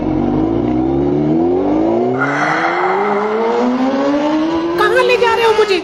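A Honda motorbike engine starts up and pulls away, its loud revving pitch climbing steadily over several seconds as it accelerates.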